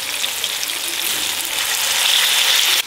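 Shrimp paste (terasi) frying in hot oil for sambal gives a constant loud crackling sizzle that holds steady throughout, with no voices.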